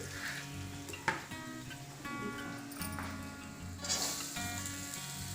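Onion frying in a pan with a pinch of turmeric, giving a soft, steady sizzle with occasional stirring clatter, fairly quiet and close, with no talk.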